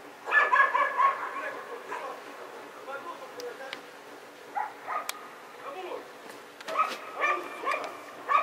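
Dogs in Russia bark, yip and whimper in bursts, close and fairly loud, with a person talking over parts of it.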